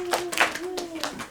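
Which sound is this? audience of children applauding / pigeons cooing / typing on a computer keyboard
audience of children applauding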